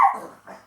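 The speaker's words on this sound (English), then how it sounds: "that's my dog." A single close dog bark, short and loud, trails into a brief whimpering yip.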